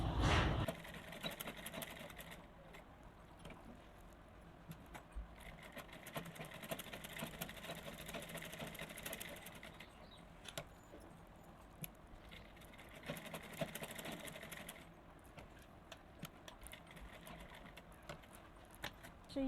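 A sewing machine stitches the middle seam of a lined blouse, giving a faint, steady mechanical whir that runs almost continuously with slight surges in pace.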